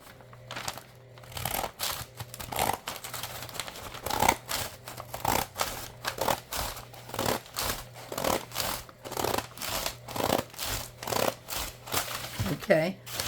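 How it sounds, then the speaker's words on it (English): Pinking shears cutting through paper for a junk journal, a steady series of rhythmic crunching snips close by, repeating about once a second, with someone talking over the cutting. "So I can use the pinking shears for that."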